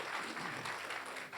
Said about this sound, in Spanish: Fuerte el aplauso en el mundo